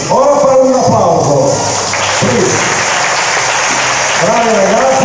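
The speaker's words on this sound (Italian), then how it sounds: "ora fare un applauso" Audience applause at a kettlebell competition hall, a continuous loud wash of clapping under someone talking over a microphone, his voice prominent above the crowd throughout.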